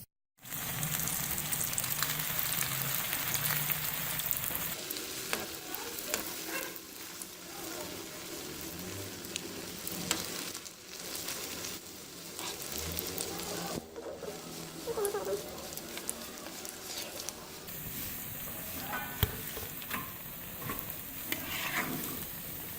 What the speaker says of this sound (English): my rolls are ready, so I'm gonna fry them